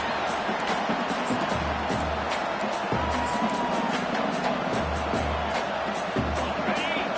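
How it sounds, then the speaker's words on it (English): A football stadium crowd roars in a continuous, dense swell of cheering and shouting early in a game, with rhythmic low thumps and brief whistle-like tones rising from the noise and no clear talk on top. "Listen to the crowd energy here in the early going."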